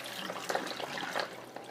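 Photo-flo solution is poured out of a black-and-white film developing tank, giving a short, gurgling stream of liquid with uneven splashy pulses; no speech.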